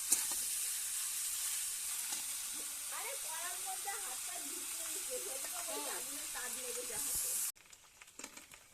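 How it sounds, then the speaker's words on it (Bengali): Leftover rice stir-fried in a hot pan gives a steady sizzle with scraping and stirring, then stops abruptly near the end, leaving quiet room noise and a few light knocks. "বাসি ভাতটা এই দেখুন দিয়ে এবার এরকম ভাজা ভাজা করে নেবো"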